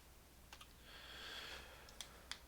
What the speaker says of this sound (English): I just have to be careful when I'm typing in the function.